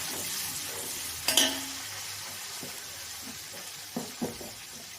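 Onions sizzle in hot oil in a pan for chicken biryani, a steady close hiss broken by a few sharp scrapes and clinks of a spoon stirring, no voices.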